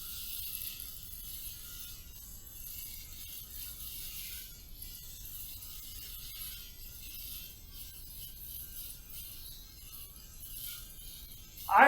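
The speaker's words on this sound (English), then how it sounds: "let's go ahead and fire up this razor and get to the shave" Electric razor running during a shave after a Lectric Shave pre-shave: a faint, steady mechanical buzzing whir throughout, quiet and close, ending in a brief louder scrape.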